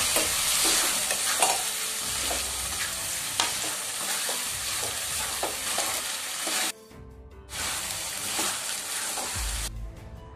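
Prawns frying with ginger and garlic for a prawn masala, a loud continuous sizzle broken by frequent stirring and scraping sounds, with a brief quieter gap, no voices.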